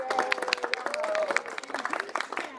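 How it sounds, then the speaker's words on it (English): Audience applause ringing out at a championship all-breed cat show, a dense, steady patter of many hands clapping at moderate volume, with scattered voices and a faint tonal sound running underneath. "may I present to you for your appreciation and your applause, Professor"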